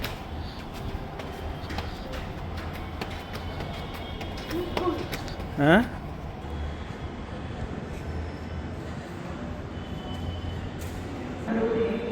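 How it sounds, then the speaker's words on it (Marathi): A metro train rumbles steadily through a station, a short rising electronic tone sounding partway through, with faint voices in the background. "इथं मेट्रो येणार होती"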